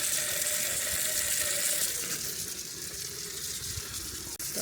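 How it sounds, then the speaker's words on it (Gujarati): Water streams steadily over a rose plant, washing aphids off its budding stems, a continuous close hiss of running water that eases slightly partway through. "મહીને આપણે પાણીથી ધોઈ નાખીએ."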